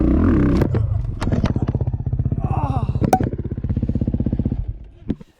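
A Honda motorcycle accelerates through a turn and hits a step at full throttle. The engine revs in a rapid, pulsing drone that rises and then cuts off, with a short clattering knock near the end.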